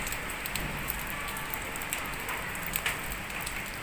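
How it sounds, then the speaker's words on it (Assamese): Heavy rain pours down during a sudden storm, a steady dense hiss with scattered sharp drop ticks throughout and no voices. "কাৰ কাৰ ফালে এনেকুৱা ধুমুহা বৰষুণ হৈছে"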